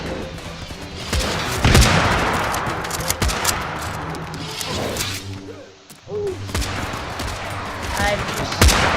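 Musket volleys in Totally Accurate Battle Simulator, a chaotic battle of repeated sharp gunshot cracks and overlapping bursts with whooshes and clatter, loud and dense throughout.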